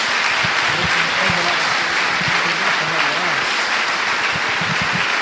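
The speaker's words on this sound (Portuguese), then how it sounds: "Dê uma salva de palmas a Jesus." A church congregation breaks into steady, sustained applause that fills the space at full volume, with voices calling out faintly beneath the clapping.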